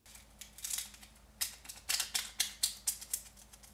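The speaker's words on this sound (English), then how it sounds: "as long as the nori is fresh and dry, it should tear clean and straight just like this" Dry sheets of fresh nori folded and torn by hand, giving a series of crisp, papery rips that come in quick bursts, growing sharper and more regular toward the end, close up with no talking.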